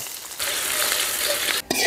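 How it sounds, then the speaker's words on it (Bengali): Onions crackle and sizzle loudly in hot oil for beresta in a close, continuous frying hiss, with a brief dip near the end as they are moved in the pan. "বেরেস্তার জন্য পেঁয়াজ ভাজা"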